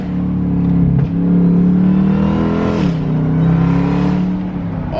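A Jeep Trackhawk with an upgraded AWE exhaust revs close and loud, a deep, steady engine roar that rises, dips briefly near the middle, then swells again without talk.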